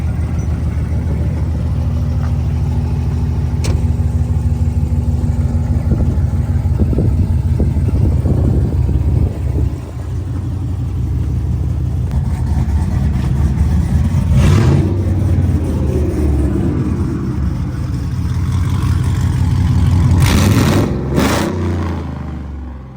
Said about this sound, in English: Truck is tuned. It's running beautiful.